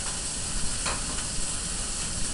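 Mushroom cap frying in hot oil in a pan for a veggie burger, giving a steady, close, bright sizzle with soft crackles throughout and no talking.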